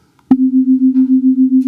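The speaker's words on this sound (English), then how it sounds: "it publishes HTML5 audio after creating sine waves with NumPy" Two sine wave tones generated with NumPy sound together as one steady pure hum after a click, pulsing in a regular wah-wah beat several times a second, loud and alone.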